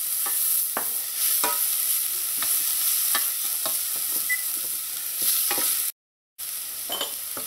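Minced garlic and chopped coriander fry in a pan with a steady, soft sizzle, punctuated by regular scrapes and taps of stirring, and one brief break of silence near the end.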